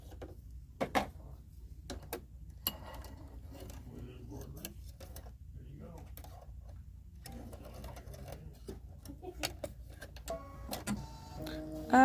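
An embroidery machine stitches a shamrock coaster in the hoop with white thread, a rapid mechanical ticking and clatter in bursts, with a person talking over it.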